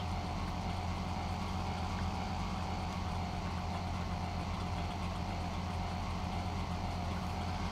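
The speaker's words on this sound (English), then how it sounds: "it's such a poxy sounding little engine, isn't it?" A small, weak-sounding car engine runs steadily in the driving game The Long Drive, a constant droning hum at moderate level with no variation and no talk over it.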